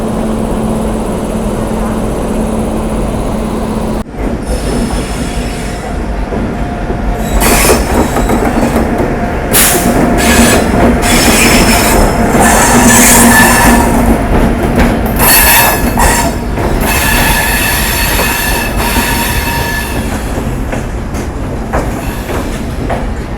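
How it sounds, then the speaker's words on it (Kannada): An electric-locomotive passenger train bound from Visakhapatnam to Hazrat Nizamuddin at platform 8, with a loud steady rumble of rolling wagons, rising squeals and clatter close by on the platform. "ಇದು ಟ್ರೈನ್ ಬಂದುಬಿಟ್ಟು ವಿಶಾಖಪಟ್ಟಣದಿಂದ ಹಜರತ್ ನಿಜಾಮುದ್ದೀನ್ಗೆ ಹೋಗ್ತದೆ."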